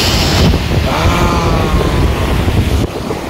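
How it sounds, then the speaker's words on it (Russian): Loud rushing Black Sea surf and wind noise wash over the microphone in a steady roar on a beach in bad weather, close and continuous, with no talking. "Вот море, море, море, море."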